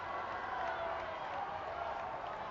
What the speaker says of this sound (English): Great reaction from the crowd now as we sit tied up.